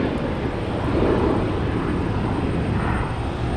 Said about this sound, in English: One of Joe Milton's on that plane.